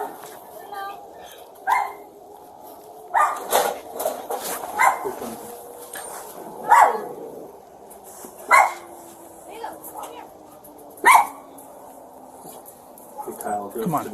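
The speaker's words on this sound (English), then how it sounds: "One dog's out." Several dogs bark in sharp single barks spread out at intervals, fairly close, over steady background noise, with someone talking briefly in between.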